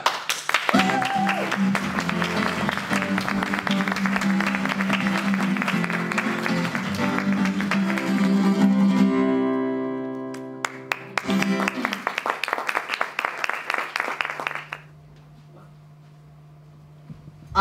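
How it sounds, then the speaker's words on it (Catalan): At the launch event of Tens la Paraula, the audience applauds the co-presenter with loud, dense clapping that runs for several seconds, drops briefly, resumes in sharper bursts, then stops, leaving a low hum. "Donem un fort aplaudiment, sisplau, per la Berta!"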